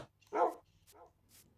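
Dogs barking, a loud bark followed by a fainter second bark and a quieter distant yip, with no talking over them.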